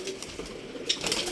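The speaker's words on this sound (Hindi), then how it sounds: "ये देखें हैदर भाई ने छोड़े हैं ऊपर जाल में कबूतर" Soft, low pigeon cooing murmurs close by, a brief throaty burble with faint rustling around it.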